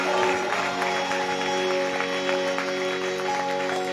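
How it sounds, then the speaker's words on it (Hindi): A congregation at a church service claps loudly in praise, with dense, continuous clapping under sustained tonal music or a held organ-like drone, steady and fairly loud throughout. "इतनी जोरदार तालियां बजा सकते हैं जिंदा खुदा के रूह के लिए"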